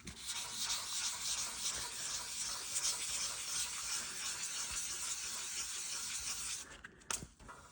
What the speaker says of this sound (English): So let's just do a quick sand along and see what shows up here.